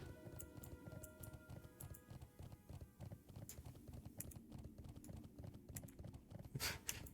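A horse galloping in World of Warcraft, Classic Death Knight starting zone, with a rapid steady clip-clop of hooves running throughout, mixed with keyboard typing, quite faint overall.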